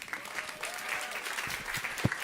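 Audience applause at a talk on nourishing people and the planet, a steady wash of clapping with a faint voice over it, fairly quiet and sustained throughout.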